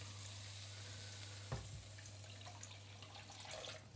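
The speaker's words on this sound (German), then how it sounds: "weil wir brauchen 600 ml Wasser ungefähr und die kommen jetzt auch noch da rein." Water pours into a pot of sizzling chili con carne, a sudden splash cutting into the steady frying hiss, followed by bubbling and softer sizzle, quiet and close with a low hum beneath.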